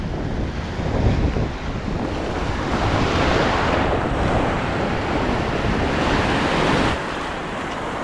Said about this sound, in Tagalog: Kasi basag-basag talaga yung alon.